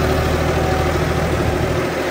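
A John Deere 5405 tractor engine running in D1 gear, a steady, close, heavy drone with an even low throb and no voices.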